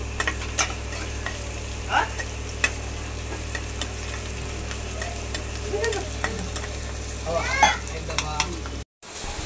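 Onion sizzles in a pan as a creamy white sauce pasta is being made, with a loud, steady frying hiss and frequent clicks and scrapes of a spoon stirring it close up, plus a low hum underneath.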